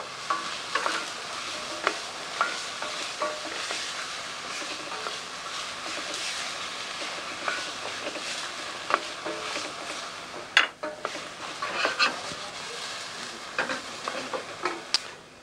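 Whole garlic cloves sizzle steadily in a hot pan, with scattered clicks and scrapes from stirring over a continuous frying hiss.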